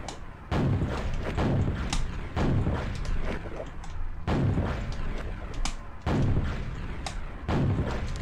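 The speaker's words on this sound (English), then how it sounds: "I might be able to actually rocket jump my way out of this" Rocket explosions from rocket jumping in Quake, played on Nightmare difficulty, go off as a regular series of heavy booming thuds, roughly one per second, close and loud with no speech.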